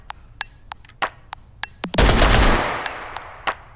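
Fully automatic fire from an AK or M4 rifle in the H3VR virtual reality shooting game: a few sharp single shots, then a dense, loud sustained burst that tails off, followed by more isolated cracks.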